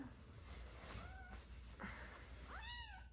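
A kitten gives a few short, thin meows, close but faint, spaced over a few seconds with a brief rustle between them.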